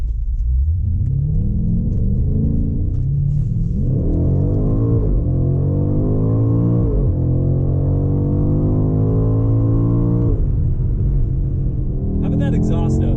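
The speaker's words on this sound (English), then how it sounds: "That exhaust note" A 2020 BMW X5 M Competition, a 617 hp performance SUV, drives with a deep, loud exhaust note that rises and falls through repeated surges of acceleration and gear changes, heard from inside the cabin.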